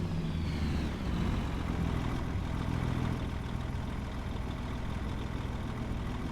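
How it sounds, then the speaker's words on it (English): A heavy semi truck engine drones loudly and steadily at idle, a constant low rumble with no other sounds, in the video game Farming Simulator 25. "Man, is this truck loud."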